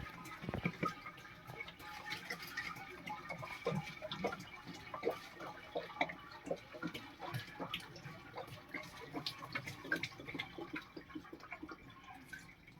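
Fresh date palm sap poured from a container into a cooking pot at night for boiling, a faint continuous liquid trickle with scattered drips and splashes throughout.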